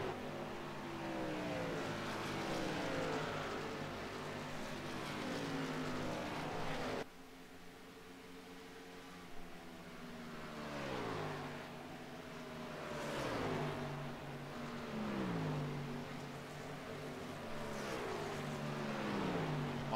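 Racing truck engines in a sim racing game roar steadily and loudly, with repeated rising and falling revs as the trucks shift and accelerate, one abrupt cut partway through.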